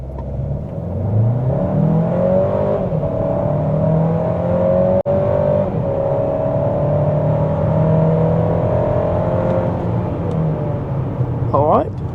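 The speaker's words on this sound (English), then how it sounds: "let's do the full stop start acceleration" An MG HS 1.5-litre turbo with a dual-clutch transmission accelerates hard from a full stop, the engine note climbing through rising sweeps as gears change, heard steadily from inside the cabin.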